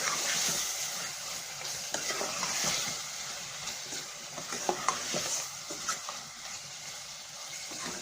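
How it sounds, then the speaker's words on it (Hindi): Red chilli and ground garam masala are stirred in a frying pan, with scraping strokes over a low sizzle for a potato-capsicum curry, close and fairly quiet with irregular clinks. "अब इन मसालों को थोड़ी देर मिक्स कर लूंगी।"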